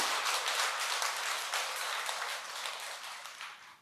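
Steady applause from a group at a Buddhist temple ceremony (Jingwansa Suryukjae rite in Korea), moderately distant, holding for a few seconds and then tapering off.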